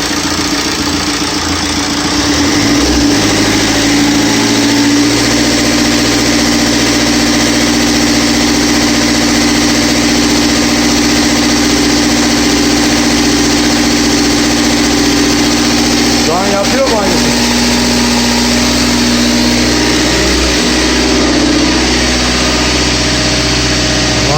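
A rebuilt car engine runs steadily at a loud, constant idle, with a couple of short throttle blips near the end and a voice talking over it.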